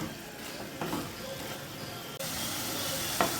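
Carrot halwa is stirred continuously in a kadai, giving a steady soft sizzle and hiss with occasional light scrapes of the spoon against the pan.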